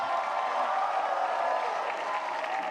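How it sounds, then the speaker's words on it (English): A large crowd of young people at an interreligious gathering with Pope Francis in Singapore erupts in sustained cheering and applause, a dense, steady roar filling the space without letup. "One more big cheer for Pope Francis."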